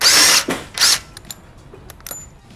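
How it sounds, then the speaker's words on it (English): A power tool whirs in two short loud bursts while removing the left passenger foot peg from a Harley Softail, followed by faint metallic clicks and ticks. "Next, we're going to remove the passenger foot peg on the left-hand side."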